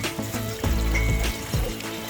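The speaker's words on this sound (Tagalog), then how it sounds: "May mga tubig na po ito pumapasok." Water gushes and trickles into the channels of a hydroponic system fed from a return tank, a close, steady flowing sound with gurgling surges and no talking.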